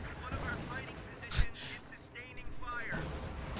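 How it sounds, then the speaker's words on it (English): Artillery shells land in the Company of Heroes 2 video game around a Panther tank, producing a sharp distant thump and scattered muffled blasts beneath steady commentary from a male caster. "There's actually artillery coming in on top of the Panther"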